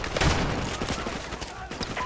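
Dense video-game gunfire rattles continuously through the whole stretch, loud and busy, with bursts overlapping one another and a raised voice calling out partly over the shooting.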